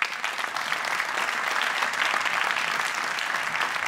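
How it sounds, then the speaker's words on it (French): Applause from an audience at the Forum Nouvelle Économie 2023 as a speaker comes on stage, steady dense clapping that holds evenly throughout without a break. "On accueille Atta Dabour qui monte sur scène et on l'applaudit."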